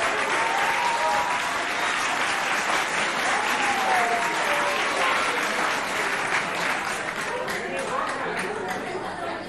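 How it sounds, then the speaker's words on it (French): Steady applause from an audience at a school competition fills the whole stretch, dense clapping with faint chatter mixed in. "On les applaudit."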